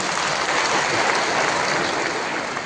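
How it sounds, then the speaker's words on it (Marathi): A crowd at a political rally claps loudly and continuously in a dense, even burst of applause with no voices standing out. "म्हणून एका जोरदार टाळ्या त्यांच्यासाठी झाल्या पाहिजे"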